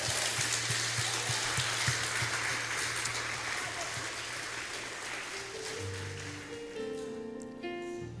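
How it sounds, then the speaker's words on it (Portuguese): A church congregation applauding during a family worship service, a dense wash of many hands clapping that stays steady throughout, with a low hum and then sustained organ or keyboard tones entering near the end. "Você pode aplaudir o Senhor e receber essa palavra?"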